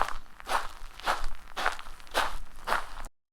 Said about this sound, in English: Footsteps, not theirs, trailing behind.